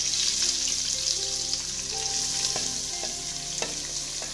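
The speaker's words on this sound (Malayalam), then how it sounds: "നമുക്ക് ഈ സവാളയും ക്യാരറ്റും ബീൻസും അരിഞ്ഞിട്ടിരിക്കുന്നത് ഇടാം" Chopped onion, carrot and beans sautéing in a hot pan for upma made with ration rice, a steady close sizzle with occasional clinks and scrapes of a stirring spoon.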